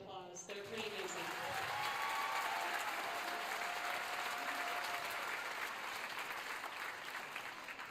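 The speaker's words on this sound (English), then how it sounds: "So please give them a round of applause" Applause for 5th and 6th grade band students at a school concert starts abruptly and continues as a sustained, even wash of clapping, with faint voices underneath.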